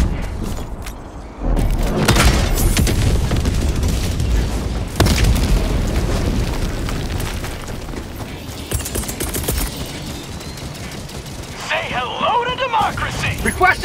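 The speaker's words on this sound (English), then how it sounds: "Firing orbital strike." Orbital strike explosions in Helldivers 2: heavy booms and a dense, sustained rumble of blasts and gunfire, loud throughout, with voices calling out over it.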